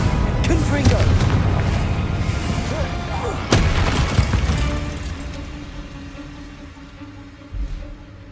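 A booming blast from the Confringo fire spell in the video game Hogwarts Legacy, a loud burst with crackling debris that fades, followed by a second sharp impact near the end, with a voice speaking over the game sounds.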